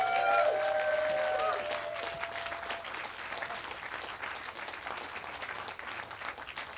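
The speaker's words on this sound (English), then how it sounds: "let's give him a round of applause." Festival audience applauding a speaker welcomed to the stage at an outdoor green gathering, a dense, steady wash of many hands clapping heard at moderate distance, strongest at the start and settling slightly lower while continuing throughout.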